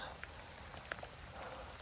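Steady rain falling in a forest on a bushcraft outing, a faint continuous patter with a few sharper drops landing close by.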